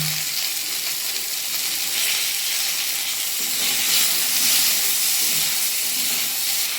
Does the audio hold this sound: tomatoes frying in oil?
yes